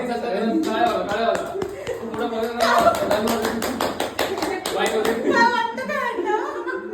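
People at a small home celebration clap in a burst of applause, with sharp irregular hand claps close by. Voices talk and chuckle over and between the claps.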